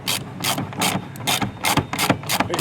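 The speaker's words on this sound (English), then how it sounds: "Make sure the ratchet's going the right way." Ratchet wrench clicking as it turns 6.3 by 20 bolts during installation work on a 2017-2022 Audi Q7, a rapid series of sharp close-up ratcheting bursts in a steady repeating rhythm, with no talking.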